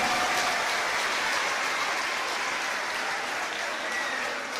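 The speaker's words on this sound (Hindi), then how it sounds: "एक बार जोरदार तालियां अपने सबके लिए" A crowd of schoolchildren at a school event in Delhi claps steadily and loudly throughout, a dense continuous wash of applause with no voices standing out.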